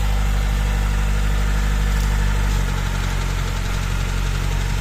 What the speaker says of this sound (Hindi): गाड़ी के इंजन में आवाज़ है